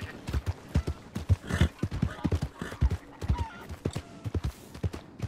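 A horse's hooves clip-clop at a steady walking rhythm in Red Dead Redemption II, close and even, with faint talk in the background.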